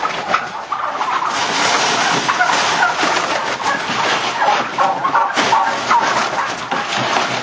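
Turkeys on a farm gobble and cluck as a dense, loud, continuous flock chorus from a played recording, with no talk.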